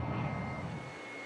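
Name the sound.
British Harrier jump jet flying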